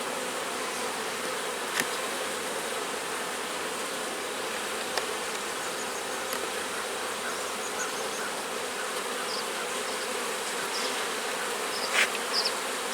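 Honey bees buzz densely and continuously around an open hive during an inspection, a close, steady droning swarm with a few faint clicks of handling and no voices.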